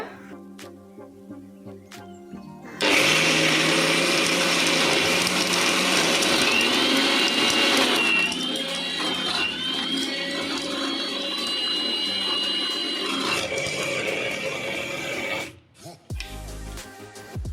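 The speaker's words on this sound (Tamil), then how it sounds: "ஒரு 2 நிமிஷம் நல்லா சுற்றிட்டு இதை மாதிரி பவுடர் ஆனதுக்கப்புறமா மேலே இருக்கிறதெல்லாம் உள்ளே தள்ளி விட்டு திருப்பி இன்னொரு வாட்டி அரைச்சிக்கோங்க" A mixer grinder whirring peanuts into powder kicks in after a quiet start and runs loud and steady for about thirteen seconds, its pitch shifting partway, then stops with a few clunks.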